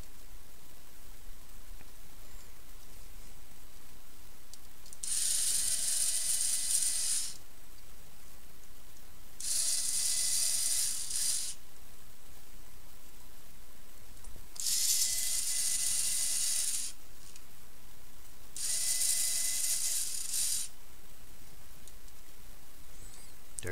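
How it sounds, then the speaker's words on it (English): An electric screwdriver whirs in four short bursts of about two seconds each, separated by pauses, while screwing the small plastic case of a hobby servo back together, with a faint background hiss. "now I can screw this back on with the electric screwdriver"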